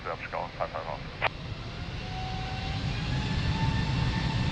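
An airliner's engines roar as it takes off from runway 02 at Lisbon Airport, the steady loud rumble building after a brief burst of radio chatter at the start.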